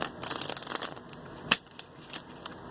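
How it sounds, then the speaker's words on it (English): Tarot cards shuffled by hand in brief, light riffling bursts of papery flicks, close and fairly quiet, with a sharper snap partway through and softer scattered flicks afterward. "can only shuffle a little bit"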